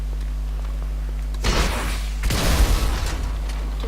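A car struck by a rocket launcher in a video game explodes in two loud, broad bursts, the second longer and rumbling, over a steady low hum.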